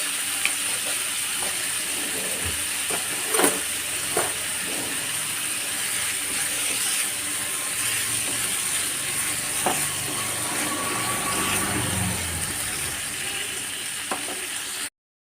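Onions and curry leaves frying in a pan for a chicken fry, with a steady close sizzle and a few scattered scrapes and clicks from stirring throughout.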